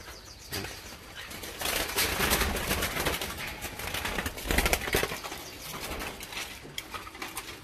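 Doves on a dove farm flap their wings in loud, fluttering bursts, with soft cooing mixed in close by.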